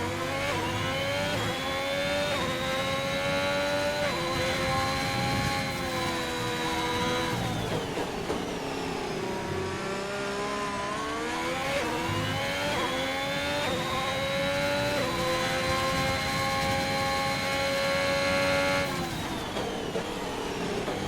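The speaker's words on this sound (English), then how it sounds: "now we see the Alpine of Jigsaw begin to come down pit lane" Race cars, including an Alpine and a Ferrari, lapping the Portugal circuit in a racing video game, a continuous loud engine whine rising and falling with gear changes and throttle, close and steady.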